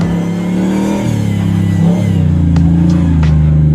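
A Jeep JK with a Hemi V8 and Borla exhaust revs close by, its deep, throaty rumble rising and falling through a couple of throttle blips, loud and with no talk over it.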